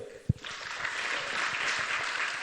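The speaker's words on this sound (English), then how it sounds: "Clap for Jeff." A crowd at a UDA comrades youth rally in Kisumu breaks into applause after a sharp thump, a full, steady round of clapping that fills the rest of the moment.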